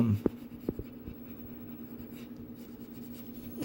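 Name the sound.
pencil shading and blending on a dragon drawing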